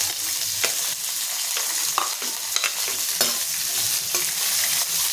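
Finely chopped onion, green chilies and curry leaves frying in a hot pan, a loud steady sizzle with intermittent scraping and knocking as a spatula stirs them around.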